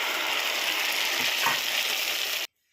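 Omelette frying in a pan, lidded, gives a steady close sizzle with a faint knock near the middle, cutting off abruptly at the end.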